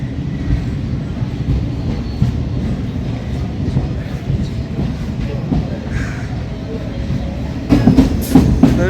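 Inside a Kolkata Chakrarail suburban train, a steady loud rumble of wheels and carriages runs throughout with rhythmic clattering, and a louder rattling burst comes near the end.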